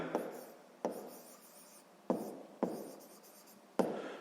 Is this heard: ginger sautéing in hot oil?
no